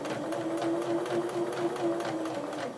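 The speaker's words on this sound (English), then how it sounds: "now I'm going to begin sewing, staying along the 1/2 inch seam allowance" A sewing machine runs steadily along a half-inch seam allowance, a close, even mechanical hum with a rapid rhythmic stitching pulse throughout.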